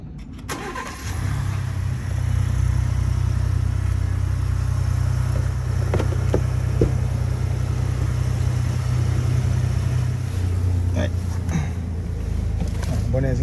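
A 2023 Ford Expedition XLT engine is started with the key and catches after about a second, then idles in a steady, loud rumble while warming up, with occasional clicks and people talking nearby.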